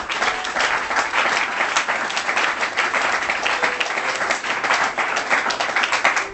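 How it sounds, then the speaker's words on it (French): A church congregation applauds loudly and steadily, the dense clapping continuing without a break from start to finish. "Acclamons le Seigneur Jésus pour cela."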